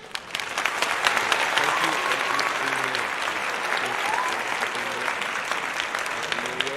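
Sustained applause from a group fills the whole stretch, dense and steady clapping that rises quickly and holds without pause.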